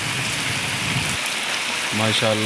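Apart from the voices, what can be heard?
heavy rain falling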